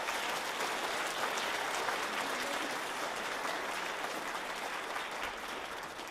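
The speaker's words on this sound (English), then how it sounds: "So please give Sylvie a big round of applause." A children's choir concert audience claps steadily and densely throughout, a sustained wash of applause from a room full of people with no pauses.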